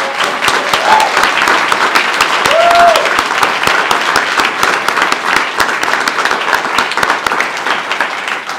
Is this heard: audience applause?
yes